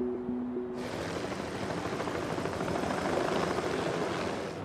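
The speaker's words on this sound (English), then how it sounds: "Helicopter is the only way in." A helicopter roars loudly and steadily over Mount St. Helens, flying very low, its rotor thumping under a broad wash of engine noise that stays close throughout.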